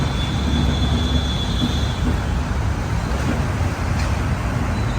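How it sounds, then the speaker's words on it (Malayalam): An express train from Mangaluru rolls into Kacheguda station in Telangana, heard as a loud, continuous rumble of wheels and carriages that stays steady throughout. "കർണാടകയിലെ മംഗളൂരിൽ നിന്നും 1523 കിലോമീറ്റർ യാത്ര ചെയ്ത് തെലങ്കാനയിലെ കാച്ചിഗുഡയിലേക്ക് ഇതാ നമ്മൾ ട്രെയിൻ എത്തിക്കൊണ്ടിരിക്കുകയാണ്"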